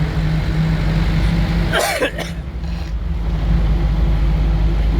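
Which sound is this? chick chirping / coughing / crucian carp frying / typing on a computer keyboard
coughing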